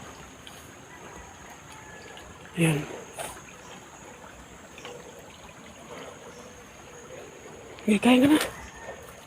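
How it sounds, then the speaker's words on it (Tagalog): A large river flows with a steady, continuous rush in the background. Voices break in briefly over the water now and then. "Sa may ilog. Sa malaking ilog, no?"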